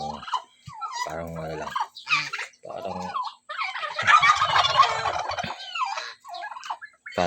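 Female turkeys fight on a farm, making loud, close, repeated gobbling and raspy squabbling calls in irregular bursts.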